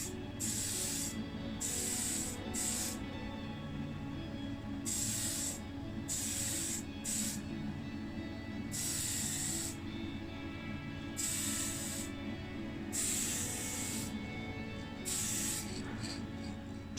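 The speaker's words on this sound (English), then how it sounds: "And we'll give it a coat of the black primer." Spray gun applying a coat of black primer to a BMW 320i body shell, in repeated hissing bursts of one to two seconds with short pauses, close and steady over a low background hum.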